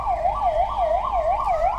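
An ambulance siren wails in a steady, repeating rise-and-fall pattern at moderate loudness, heard alone with no talk, during an earthquake mock drill exercise in Dimapur.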